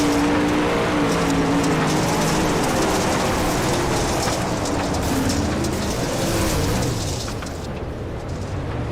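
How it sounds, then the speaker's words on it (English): Dirt-track sprint cars at a Knoxville racing event, engines droning and rising under throttle as cars come up the track, a dense continuous roar with shifting pitch that eases slightly toward the end. "You could hear the throttle as soon as the 38 of Townsend started coming up the racetrack"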